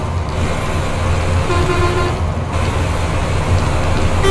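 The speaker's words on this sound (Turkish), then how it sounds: "İki kornayı birleştirirseniz böyle güzel olabiliyor." A MAN Lion's Coach bus in Euro Truck Simulator 2 sounds two combined horns as one sustained, loud, blaring tone over constant engine and road noise.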